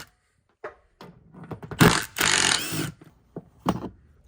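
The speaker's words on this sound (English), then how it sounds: "Then we'll take a T50 Torx bit, and we'll zip these guys out." A T50 Torx bit spins out screws holding trim in a 1999 Chevy Tahoe GMT800, giving short whirring bursts of the driver with metallic scraping and a few clicks in between, close and fairly loud.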